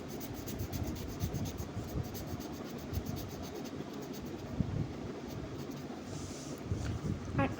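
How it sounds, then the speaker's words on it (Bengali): A sketch pen drawing on paper, a close, soft scratching and rubbing of the felt tip that comes in short irregular strokes, quiet and continuous, with no talk over it. "আমার স্কেচ পেন দিয়ে ড্রয়িং করতে খুব স্যাটিসফাইং লাগে।"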